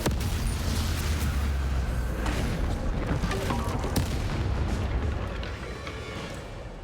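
Bombarda explosion spell cast in the video game Hogwarts Legacy, a loud, dense burst of booming blasts and crackling impacts that sustains for several seconds before easing slightly toward the end.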